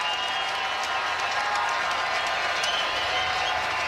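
Crowd at Dodger Stadium during Game 5 of the World Series between the Toronto Blue Jays and Los Angeles Dodgers, cheering and clapping in a steady, loud roar that holds from start to finish.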